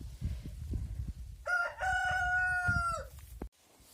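A rooster crows once in a farmyard with hens around, a loud drawn-out call rising over soft low clucks and scuffling that then cuts abruptly to quiet.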